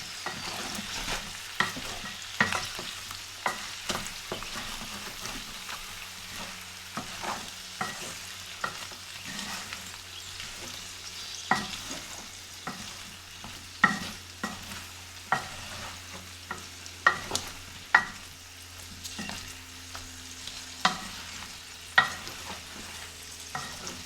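Potatoes frying in a pot for khattey alloo, a spiced potato side dish, stirred with a spoon that scrapes and knocks the pot in irregular sharp clinks over a low steady sizzle, close and alone.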